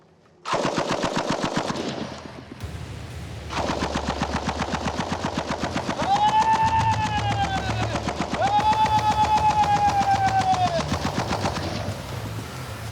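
An M60 machine gun fires long rapid bursts close by, with brief pauses between them and a ringing metallic tone carried through the later bursts.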